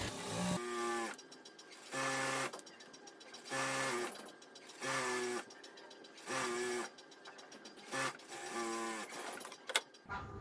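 Electric sewing machine stitching a bra strap, running close and loud in repeated short bursts of motor whir and needle chatter separated by brief pauses.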